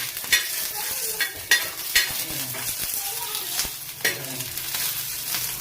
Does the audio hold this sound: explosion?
no